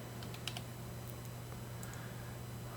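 A short burst of clicks from a computer keyboard as a value is typed in, a few quick taps near the start and a couple more later, close over a low steady hum.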